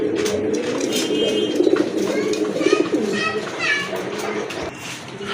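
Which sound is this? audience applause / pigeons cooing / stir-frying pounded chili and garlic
pigeons cooing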